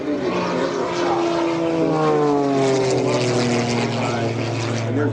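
Aerobatic propeller airplane diving through a competition sequence at an airshow, engine drone loud and steady with pitch sliding downward as it dives, a voice commenting over it.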